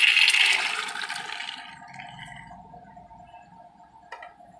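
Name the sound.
water poured into pressure cooker with peas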